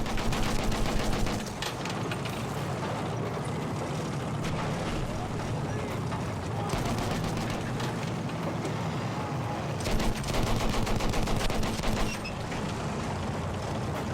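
Enemy machine gun fire in Battlefield 1 rattles in rapid bursts, one at the start and another near the end, over a constant dense wash of battlefield noise.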